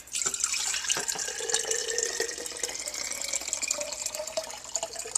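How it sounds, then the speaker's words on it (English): Liquid poured out of a jar holding a rusty beer can soaking in cleaning solution, a continuous close splashing trickle with gurgles, running steadily throughout. "I'm going to pour half the contents out of this jar"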